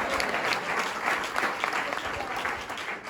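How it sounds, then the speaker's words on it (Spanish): A church congregation breaks into sustained, dense applause at a sermon, many hands clapping steadily and loudly for about three seconds with a faint murmur of voices underneath. "Yo creo que el Señor es digno de darle aplauso"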